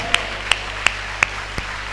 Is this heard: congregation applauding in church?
yes